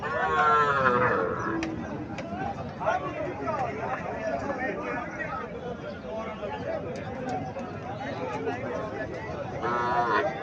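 Cattle at a rural cattle market in Comilla, including a heifer calf, with a moo-like call rising over steady crowd babble and voices that carry on throughout.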